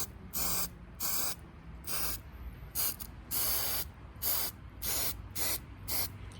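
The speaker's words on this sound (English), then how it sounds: "It goes on kind of an orangey look, just spraying it on liberal." CitriStrip paint and varnish stripper sprayed liberally onto a painted rocker in roughly ten short hissing bursts with brief pauses between them, close and alone.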